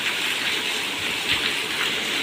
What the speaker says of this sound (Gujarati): આજે વરસાદ આવ્યો